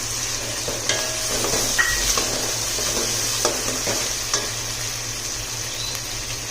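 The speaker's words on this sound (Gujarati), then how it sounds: "આદુ મરચું અને લસણની પેસ્ટ એડ કરીશું અને એને પણ 1 થી 2 મિનિટ સુધી સાંતળી લઈશું" Ginger, green chili and garlic paste sautés in a pan, a constant close sizzle broken by occasional scraping and light clinks of a spoon stirring against the pan.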